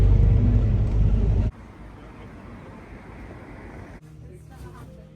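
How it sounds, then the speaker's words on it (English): Wind and road noise from riding an open-top tour bus, a loud rushing roar that drops abruptly after a second and a half to a steadier, softer rumble with another shift near the end. "We're on a topless bus."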